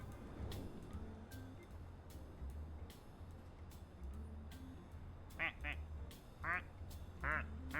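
Duck quacks on a rooftop radio during a livestream, faint rumbling background with a few short bursts of quacking in the last few seconds.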